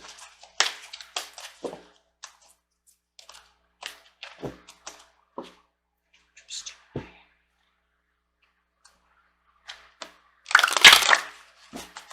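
Tarot cards shuffled by hand, giving scattered soft riffling and tapping bursts with quiet gaps, ending in a louder dense ruffle near the end, recorded close up.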